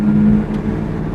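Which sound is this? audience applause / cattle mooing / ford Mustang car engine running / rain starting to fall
ford Mustang car engine running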